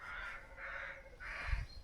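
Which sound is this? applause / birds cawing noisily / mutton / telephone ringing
birds cawing noisily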